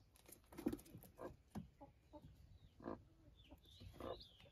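Around twenty hens and chicks of mixed sizes in a rural coop cluck and call in a steady scattered series, with some higher peeping near the end, moderately close.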